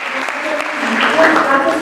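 An audience applauds at the Arno Babajanyan International Competition-Festival for junior and young pianists, a steady crowd clapping that swells slightly toward the end while a voice speaks over it.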